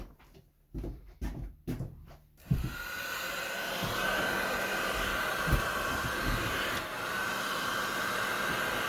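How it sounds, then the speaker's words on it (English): Heat gun blowing steadily, its loud whooshing airflow starting after a few seconds of quiet rustling and handling noises and then running on without a break, used while repairing an aux microphone jack. "I'll go get a heat gun."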